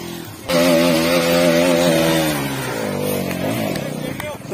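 Dirt bike climbing an off-road hill, engine note revving loud and close then slowly falling in pitch as it pulls away uphill, with voices talking over it.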